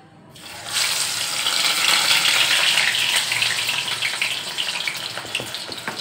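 Onion vadas deep-frying in hot oil give off a loud, continuous sizzling hiss that swells soon after they drop in and holds steady, close up, with no one talking.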